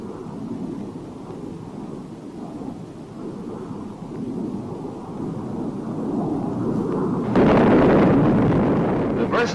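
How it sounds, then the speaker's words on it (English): Heavy rumbling blasts from a string of 750-pound demolition bombs dropped by a World War II Flying Fortress, a low continuous roar that swells and grows louder toward the end. "Shown here is the delivery of a partial load composed of 13 750-pound"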